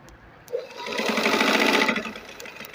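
A sewing machine runs a short burst of basting stitches along the center of a sleeve, a close, rapid whirring that rises, holds for about a second and a half, then stops.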